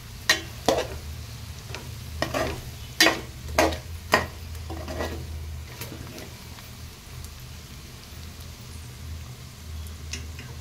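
Spoon scraping and stirring gongura boti curry in a pan, with several sharp clinks against the metal early on over a soft, steady sizzle, then quieter stirring.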